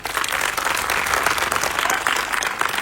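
Applause from an audience honouring the leaders at a gathering, a steady dense wash of clapping lasting a few seconds at fairly close range.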